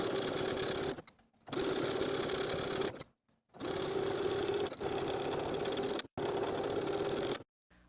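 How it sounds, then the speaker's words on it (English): A sewing machine stitches a neckband onto the neckline of a sweater dress, running steadily in four bursts of several seconds each, with short pauses between them. "Now we can sew the neckband to the neckline all the way around with a 5/8 inch seam allowance"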